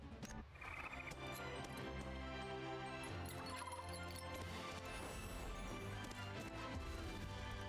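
Horse mount galloping in the Blue Protocol video game, quiet rhythmic hoofbeats under a busy bed of game music and effects, with no talk.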